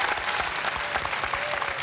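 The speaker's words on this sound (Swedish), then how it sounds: "Ingmar Andersson, ge honom en applåd från Hishult." A studio audience on a Swedish TV bingo show claps warmly, with dense, even applause running through the whole moment.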